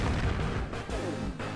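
Cannon towers firing in 3D Dot Game Heroes' block defense mode, a dense run of booming shots and pops in quick succession, loud and close with no talking.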